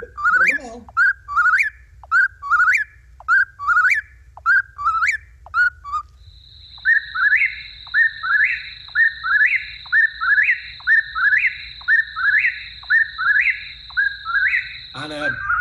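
A whip-poor-will calls at night in a rapid, rhythmic series of whistled three-part phrases, roughly one per second, loud and near. A steady high tone runs beneath the later calls.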